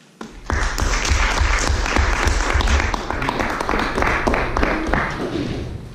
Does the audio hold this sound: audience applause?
yes